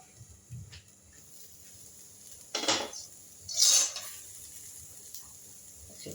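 A metal lid goes onto a cooking pot of village-style vegetable pasta with two close, clattering clanks a second apart, set against an otherwise quiet kitchen with no voices.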